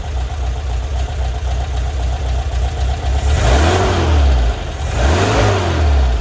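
A rattly air-cooled 2.0-litre engine in a 1978 Volkswagen Bus, choke on, idles roughly, then revs up twice in quick succession, loud and close, settling back between each rev.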